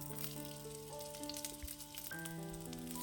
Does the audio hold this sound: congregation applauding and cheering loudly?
no